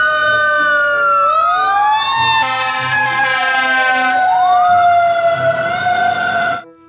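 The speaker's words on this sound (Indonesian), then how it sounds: "Lihat, ada pemadam kebakaran." A toy fire truck's electronic siren wails loudly up close, its pitch sweeping up and down in a continuous warble before it cuts off abruptly near the end.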